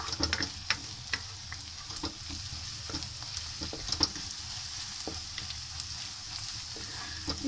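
An egg frying in a pan sizzles steadily, with scattered ticks and pops over a continuous crackling hiss, close and moderately quiet, no voices.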